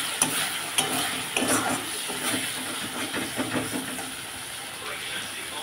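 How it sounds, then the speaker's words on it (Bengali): Chicken curry spices frying in a pan while being stirred: a steady sizzle and hiss with repeated scraping and clinking strokes from the stirring spoon, close and moderately loud. "এটা সানরাইজে অল্প দিয়ে দিলাম, দিয়ে এবার আমি ভালো করে নাড়তে থাকবো।"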